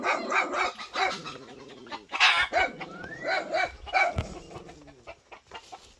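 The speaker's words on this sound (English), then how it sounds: "Oh my God, the dog is so noisy." A dog barks noisily at a rural provincial home, several sharp barks mixed with clucking chickens and a rooster, fairly close, with people talking intermittently.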